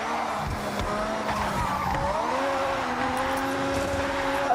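A car drifts in Forza Horizon with a loud, sustained tire squeal over a revving engine whose pitch slides up and down, no talking.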